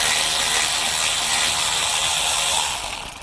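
A ratchet spins rapidly and continuously, loosening the last bolt holding the AC compressor on a Hyundai Sonata, with a steady close clicking whir that tapers off near the end.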